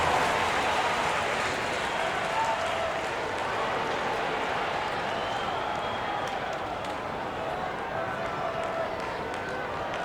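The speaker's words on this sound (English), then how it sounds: "Give yourself a round of applause." Virtual arena crowd cheering and applauding during an NBA 2K25 All-Star Game between West and East, a steady dense roar holding at an even level throughout.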